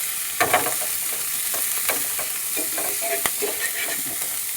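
Vegetables including carrots sizzle in a pan while being fried for Maggie noodles, a steady hiss broken by scattered scraping stir strokes and small crackles, close and even, with no one talking.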